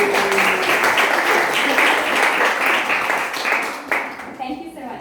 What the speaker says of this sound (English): I'd like to all to give you an Envirotech clap for Monique